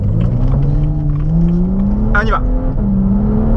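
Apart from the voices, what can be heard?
BMW 135i accelerating with fast paddle gear shifts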